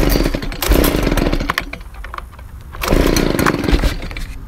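A gas-powered leaf blower with its spark arrestor removed sputters to life, then runs roughly in two loud, close revving bursts separated by a brief dip as the engine catches and falters.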